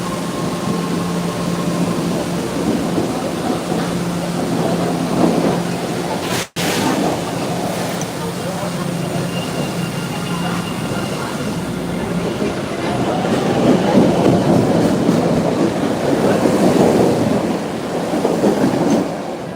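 An MBTA subway train rumbles and rattles through Downtown Crossing station, steady and loud throughout with a brief dropout, rising near the end, under a faint announcement voice.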